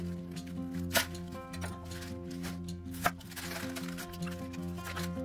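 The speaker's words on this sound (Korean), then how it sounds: "배추는 잎을 분리하여 대각으로 잘라 잎과 줄기를 함께 먹을 수 있게 잘라줍니다" A knife slicing separated napa cabbage leaves diagonally on a cutting board, with soft, irregular cuts and two sharper chops standing out over a steady background hum.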